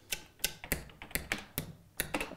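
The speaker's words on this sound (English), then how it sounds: "So these are scissors." Rapid crisp snips of scissors, a quick uneven series of sharp clicks close by with no talking.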